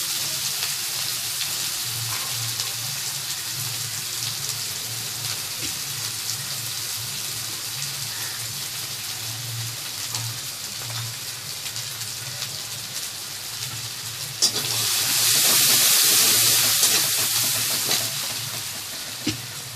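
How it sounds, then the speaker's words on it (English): Chopped onions fry in a pan of oil left over from frying fish, a steady sizzle with scraping stirs throughout, swelling into a louder, hissing burst near the end. "We are adding the chopped onions."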